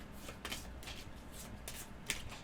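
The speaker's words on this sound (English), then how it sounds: "this will go on the bottom and shuffle" CoraQuest board game cards are shuffled into a dungeon deck: a steady riffling and flicking of cards in a quiet room, with a sharper snap near the end.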